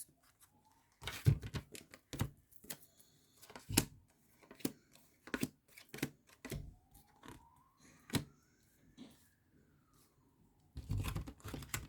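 Tarot cards are shuffled and handled in quiet bursts of soft slapping and riffling clicks, with pauses between them and a faint tonal sweep behind.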